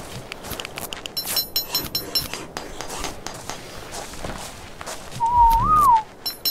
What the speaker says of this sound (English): Oops, I whistled for some reason.